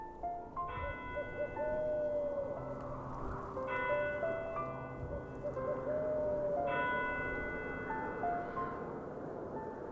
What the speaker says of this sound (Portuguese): Cada badalada se espalha pelo ar frio, viajando lentamente entre as casas, os telhados e as árvores cobertas de branco.